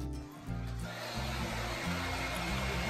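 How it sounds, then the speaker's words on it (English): A hair dryer blow drying a deep wave wig: a steady, close, continuous whooshing roar under background music, with no talking. "I'm just blow drying it."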